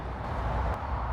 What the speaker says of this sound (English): The noise you can hear in the background is the motorway.